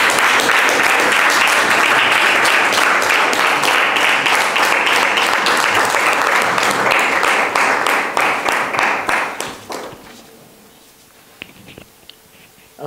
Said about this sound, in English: please give a big round of applause to our first speaker.